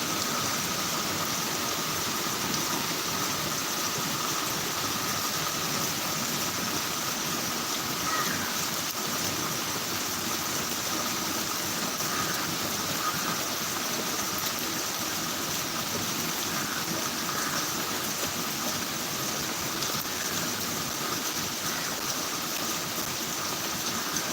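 Heavy rain pours over Chidambaram as a dense, unbroken broadband hiss, steady and loud for the whole stretch, with no voices and only a faint low rumble beneath.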